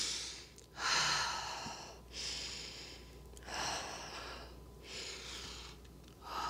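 Deep breaths during a yoga exercise, with several loud, close inhales and exhales repeating in a slow rhythm and no talking.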